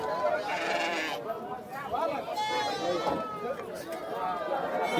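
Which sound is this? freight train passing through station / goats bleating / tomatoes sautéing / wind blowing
goats bleating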